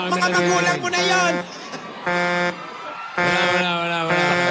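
Loud harmonic horn blasts on a street, a long honk, a pause, a shorter honk, another pause, then a long honk, with voices talking between and under them.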